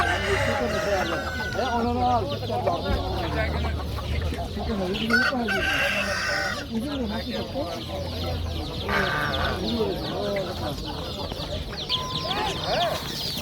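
Roosters crow and hens cluck continuously at the Jomashuy poultry market, with several overlapping birds nearby and farther off, all under steady crowd murmur and market talk.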